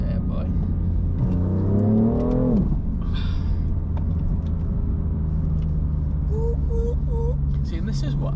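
A BMW 8 Series engine gives one close, loud rev that sweeps up and falls back, over a steady idle rumble, with people talking nearby.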